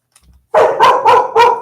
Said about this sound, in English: She's got a loud bark when she wants to for a small little dog.